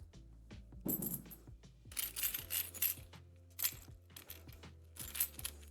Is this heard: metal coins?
yes